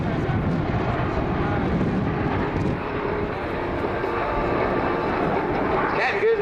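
A tiltrotor aircraft drones steadily in flight nearby, a broad continuous engine and rotor rumble that swells slightly near the end, with talk over it.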